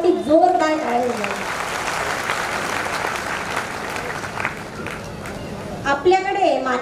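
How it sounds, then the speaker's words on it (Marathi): An audience at a Ladshakhiya Vani community gathering in Chalisgaon applauds, a dense sustained wash of clapping lasting several seconds, loud and close, with a voice speaking over it before and after. "एकदा पुन्हा आमच्या चाळीसगावच्या लाडशाखीय वाणी समाजासाठी जोरदार टाळ्या."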